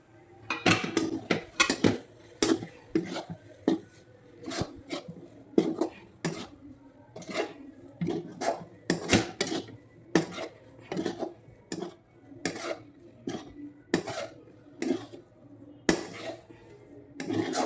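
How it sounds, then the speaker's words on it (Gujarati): A spoon mixing green pigeon pea filling with lemon juice and red chilli in a steel bowl, repeated sharp metallic clinks and scrapes in an uneven rhythm, close and fairly quiet, with no voice. "અને હવે બરાબર મિક્સ કરી દઈશું"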